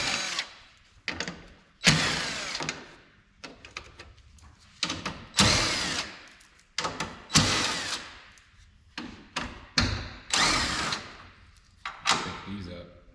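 Power drill running out 10 mm bolts along the front of a Cadillac SRX during headlight removal, a series of about ten close, loud bursts of whirring, each a second or so long, separated by short pauses.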